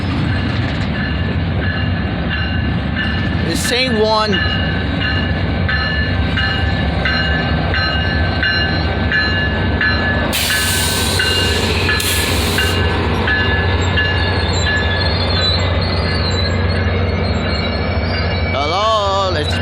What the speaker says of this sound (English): Look at that. The train is going slow.